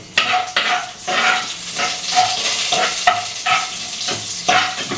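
Fennel seeds, cloves and cinnamon fry in hot oil for mutton sukka, with a steady sizzle and repeated scraping stir strokes that come close and fairly loud in a regular rhythm.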